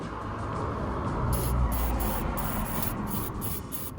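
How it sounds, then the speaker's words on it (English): WD-40 hisses from a spray can in a few short bursts onto a bolt thread tucked behind the front control arm of an Alfa Romeo Giulietta, over a low steady background hum. "get a bit of WD just on the back of the thread there, just to spray it in"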